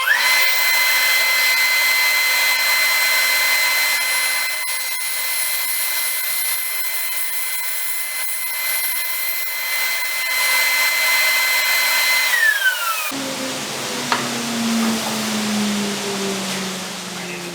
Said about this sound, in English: this time I'm going to put the dust collector on because it's a bit dusty